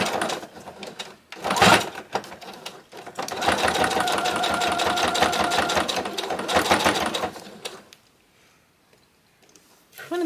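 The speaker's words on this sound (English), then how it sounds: "go ahead and sew that at 1/4 inch" A sewing machine runs along a bag seam in short bursts, then a longer steady stitching run of rapid mechanical clatter, before stopping into near silence.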